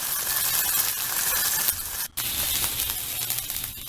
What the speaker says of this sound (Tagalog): I-prito muna natin yung isda, tapos i-separate natin.